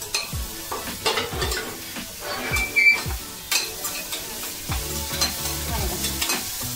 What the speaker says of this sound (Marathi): आणि गॅस मोठा तोपर्यंत आपला कांदा इकडे लालसर झालेला आहे।